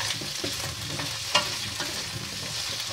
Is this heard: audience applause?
no